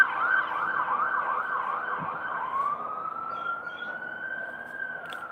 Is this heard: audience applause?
no